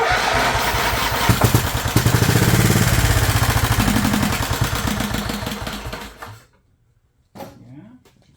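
The engine of an abandoned Scotts John Deere 20 HP lawn tractor cranks and sputters as it tries to start, with a rough, uneven chugging that builds and then dies out. A short burst of sound follows after a brief silence.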